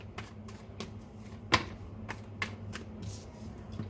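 Tarot cards shuffled by hand in soft, quick riffling flicks with a few sharper slaps, close and fairly quiet, no talk.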